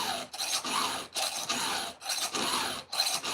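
A hand file rasping across a saw tooth in rhythmic strokes, about six close, scratchy push strokes with short pauses between them, no voices.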